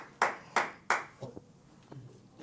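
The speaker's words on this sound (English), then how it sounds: "Clap for it." A few people clap in short bursts at a kids' leadership academy gathering, three sharp rounds of clapping followed by scattered fainter claps, close and fairly quiet.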